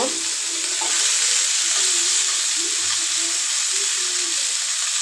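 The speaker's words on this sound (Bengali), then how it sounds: "এটা হচ্ছে ভালো মতো ভেজে নিতেছি" Food frying in a pan on a home stove during Eid cooking gives a steady, loud, continuous sizzle with faint stirring touches, and nobody speaks.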